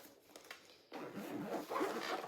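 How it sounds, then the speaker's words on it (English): A bag zipper is pulled shut in one steady, close rasp after a few soft handling sounds, with no talking. "Zipper up, and I'm done."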